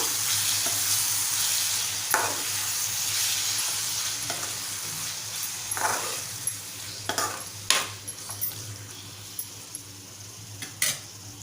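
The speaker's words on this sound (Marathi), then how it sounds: "आता आपण मॅरिनेट करून ठेवलेली कोळंबी घालून घेऊया छान एकजीव करूया" Marinated prawns stirred into hot oil in a frying pan for spicy Maharashtrian prawn rice, a steady close sizzle with occasional scrapes and clinks of a spoon against the pan.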